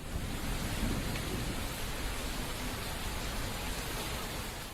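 Heavy rain pours steadily over flooded villages, a dense, unbroken hiss of downpour with a low rumbling undertone, constant and fairly close throughout, with no voices over it.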